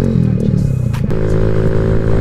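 A motorcycle with only 200 miles on it, fitted with an aftermarket exhaust, runs loud and close with a steady rumbling engine note and slight rev, riding through traffic without talk.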